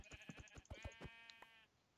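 Sheep in the video game Minecraft bleat in a quick series of short, wavering calls, fairly faint and clear with no talking over them.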